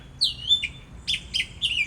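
A bird chirps a few quick, high tweets in close succession, bright and fairly near over a quiet, low background rumble.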